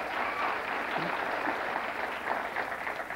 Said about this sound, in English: I'm going to give you a B plus for that round of applause